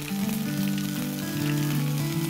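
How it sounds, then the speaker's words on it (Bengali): Mustard seeds, curry leaves and onion paste sizzling in hot oil for a Bengali coconut fish curry, a loud continuous hiss with a steady tonal hum running underneath, no speech. "তেলটা গরম হয়ে গেছে, এবার আমি সর্ষেটা ফোড়ন দেবো।"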